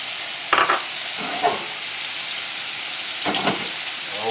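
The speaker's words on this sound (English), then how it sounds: "I'm going to cook my onions here." Onions fry in olive oil in a pot, a steady crackling sizzle with a few louder stirring scrapes against the pan, close and moderately loud, with no talking.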